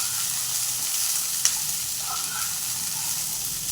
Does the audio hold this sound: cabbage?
yes